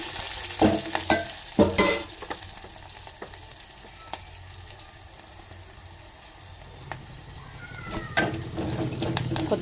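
Curry leaves sizzle in hot oil while palak pappu (spinach dal) is cooked. A soft frying hiss runs underneath sharp scraping and clattering strokes from stirring, which come near the start and again toward the end.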